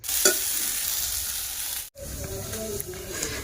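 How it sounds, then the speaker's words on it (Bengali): Steady, loud sizzling of eggplant slices frying in a pan, with a brief cutoff midway and faint clatter afterward. "এদিকে করে নিচ্ছি বেগুন ভাজা"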